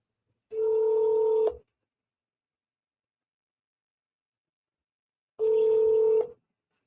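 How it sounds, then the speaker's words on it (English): Phone call being placed to a business contact, with two steady electronic tone bursts of about a second each, separated by a long silence; clear and alone, no talking. "Let's call Adam."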